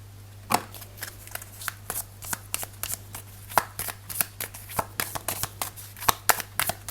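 Small advice cards from a City of Dreams deck are shuffled by hand up close, making a quick run of crisp slapping and riffling flicks over a steady low hum.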